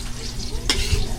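Onion and garlic frying in a pan, a steady close sizzle with a brief sharper clatter of stirring partway through.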